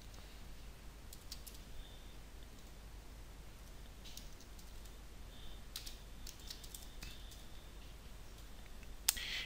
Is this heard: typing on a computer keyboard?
yes